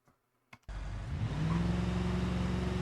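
A limousine engine in a video game kicks in after a near-silent pause, then revs up and holds a loud, steady rising drone as it accelerates.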